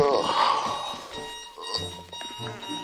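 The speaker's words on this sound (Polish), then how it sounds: "nasza postać podchodzi do budzika i... Co zrobi? Wyłączyła budzik" Alarm clock ringing inside a video game as the character gets up and switches it off, a steady electronic tone with bright upper harmonics that fades and breaks off, with faint game sounds beneath.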